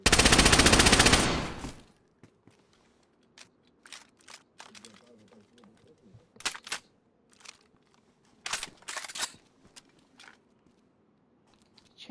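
Gunfire in the video game DayZ: a loud opening burst followed by scattered, sharper shots and clattering rounds, with players talking over parts of it.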